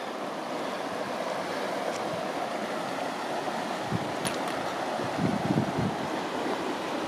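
Mountain stream water flowing in a wilderness area near Twin Lakes in July, a steady broadband rush of running water with a few brief low thumps, no talk.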